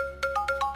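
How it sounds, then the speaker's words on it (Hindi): An electronic phone ringtone chirps in quick repeating bursts, a bright melodic pattern over a faint low hum, with no one speaking. "फोन तो उठा ले।"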